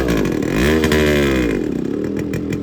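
A Yamaha RX100 two-stroke motorcycle engine revs up and down close by, loud and alone, with rising and falling pitch across the clip.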